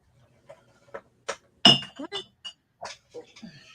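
Pieces of confetti glass clink together lightly in a home, a sparse series of about ten short, bright taps and chinks with brief pauses between them.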